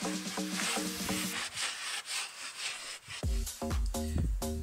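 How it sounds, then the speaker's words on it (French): A rag soaked in gasoline is rubbed over paint-stripper residue inside a Nissan 4x4 under restoration, making close, rhythmic scrubbing strokes in quick bursts with a short pause between them. "on prend un chiffon, de l'essence et on frotte"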